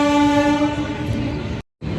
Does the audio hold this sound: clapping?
no